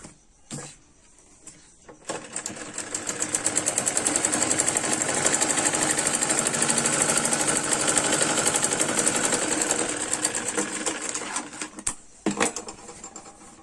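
Sewing machine stitching the cuff (mohri) of a full-gher semi Patiala salwar, a steady continuous motor whir running close and loud for about ten seconds, with a few short bursts at the start and a brief stop-start near the end.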